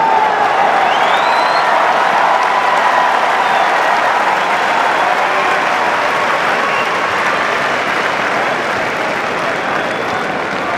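Wimbledon Centre Court crowd applauding steadily to welcome Djokovic and Federer, a dense, sustained wash of clapping with scattered cheers, loud and continuous throughout.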